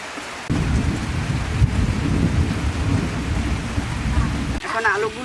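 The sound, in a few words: thunder and rain outside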